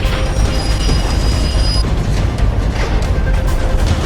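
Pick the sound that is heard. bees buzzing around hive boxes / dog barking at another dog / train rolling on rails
train rolling on rails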